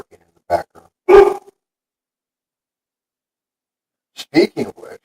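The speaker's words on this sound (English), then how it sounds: "you probably hear my dogs barking in the background" Dogs at a house give a few short, sharp barks in two separate bursts, close and loud, with silence stretching between them.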